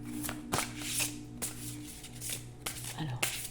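Oracle cards shuffled by hand for a reading, a string of quick papery riffles and soft slaps over a steady low hum, fairly close and moderately loud.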